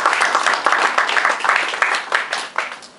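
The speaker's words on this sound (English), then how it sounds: "So let's clap for them." An audience claps at an SME development workshop, a burst of many hands with the rhythmic clapping steady and fairly close, tapering slightly toward the end.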